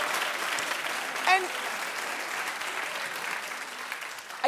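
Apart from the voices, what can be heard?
talk show studio audience clapping in agreement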